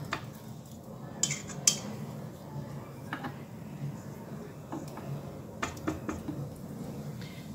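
A spoon clinks and scrapes against a bowl while mixing ingredients for a cheese borek filling, giving sparse irregular metallic taps over a soft background hum.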